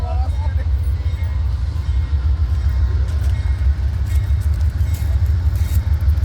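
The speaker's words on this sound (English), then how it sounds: "here's Southwest Chief number 4 about to depart" Amtrak Southwest Chief number 4 pulls out of Fullerton station: a steady, heavy low rumble of the train that fills the whole stretch, with a murmur of voices nearby.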